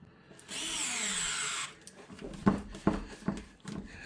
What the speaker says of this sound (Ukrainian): До половини закручую саморіз і вже далі я докручую рукою.